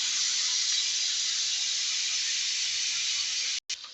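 Chopped onion frying together with potatoes in a pan gives a steady, fairly close hiss of sizzling. It runs unbroken until a brief dropout near the end.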